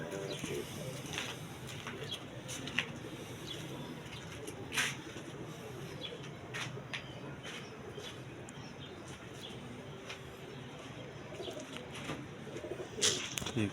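Pigeons coo on and off at a loft, low rolling calls under a steady background murmur, with occasional sharp clicks and faint flutters.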